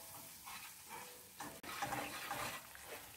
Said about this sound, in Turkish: dolu dolu mısır unumuzu ilave ediyorum. Şöyle. Ve kavuruyorum.